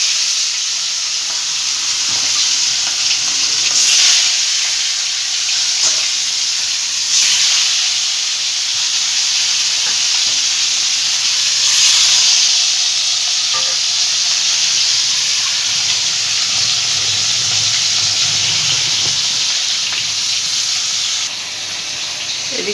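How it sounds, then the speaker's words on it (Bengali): Fish frying in mustard oil in a pan, a loud, continuous close-up sizzle and hiss with bursts of spattering that swell and ease over time, with no talking. "আর মাছ তো খুব ফোটে, এই জন্য একটু সর্ষের তেল মাখিয়ে রেখেছিলাম।"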